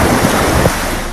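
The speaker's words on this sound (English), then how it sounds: "Parts of the capital experienced torrential downpours yesterday." Steady, dense roar of heavy water, like a hard downpour pounding surfaces, broad and continuous with a gusty, wind-buffeted edge.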